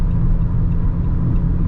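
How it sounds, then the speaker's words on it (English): Steady roadside traffic noise, a loud continuous low rumble of passing cars with no breaks, close by and heard alone without talk. "because there's always traffic here, it's very noisy."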